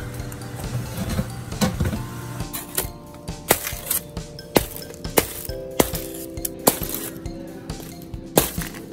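A metal pan of Chinese-style crispy pork belly is pulled from the oven, giving a run of sharp clinks and clanks at irregular intervals, close and fairly loud, over a steady tonal background.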